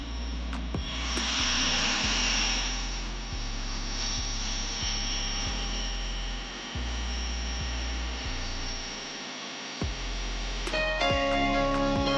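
A $20 million private jet's engines produce a loud, steady droning roar with low stepped hum tones throughout, continuous and close, with a brief rise in tone near the end.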